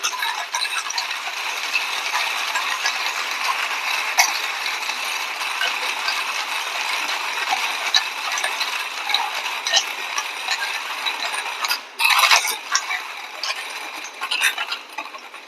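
Coffee beans are ground for a V60 pour-over in a continuous rasping, ratcheting grind that runs unbroken for about fifteen seconds, close and fairly loud, with a brief louder burst near the end.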